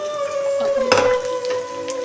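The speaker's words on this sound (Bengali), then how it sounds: "বাদাম বাটাটা আমি দিয়ে দিলাম হ্যাঁ এটা একটুখানি ভাজা ভাজা হয়ে গেলে" Ground coriander, cumin, black pepper and nut paste fry in a pan with a steady sizzle. A steady tonal hum runs underneath, and a brief metallic clink sounds near the middle.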